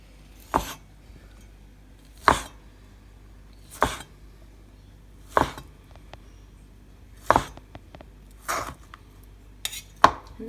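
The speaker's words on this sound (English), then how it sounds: "now we're going to just take it out and chop it up" Steamed cured pork belly (Lap Yuk) chopped with a cleaver on a board: seven sharp, evenly spaced thwacks about 1.5 seconds apart, close and clear against a quiet kitchen.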